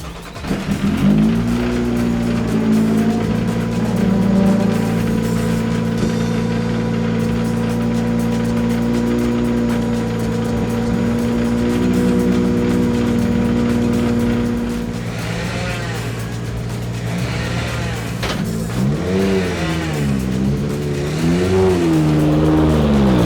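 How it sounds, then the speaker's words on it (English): 600 horsepower rallycross supercars blasting off the start line at Bushy Park, Barbados: a loud sustained roar of several engines revving hard and rising in pitch, with swooping gear changes as they pull away, crowd noise underneath. "These supercars produce 600 horsepower and they rocket off the start line with acceleration from 0 to 60 miles in just over 1 second."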